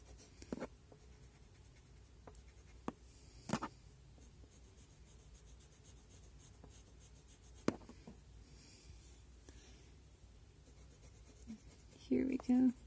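A pencil shades an anime-style drawing of a gothic pirate girl, making soft, quiet scratching strokes in scattered bursts with a few sharper taps, heard close and faint.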